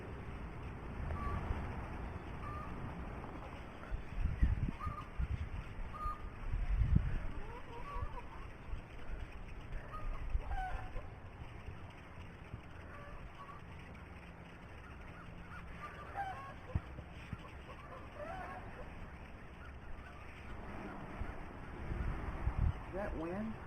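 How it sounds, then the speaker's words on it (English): A flock of birds calls outdoors, honking and squawking cries like geese or fowl coming in scattered bursts over a low rumbling background, fairly distant and faint, with people talking intermittently. "Is that wind? No, that's the birds."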